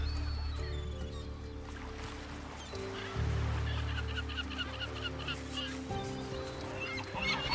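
A tern nesting colony on a tropical island gives off dense, overlapping calls, a noisy chorus of many birds heard over a low, steady background hum.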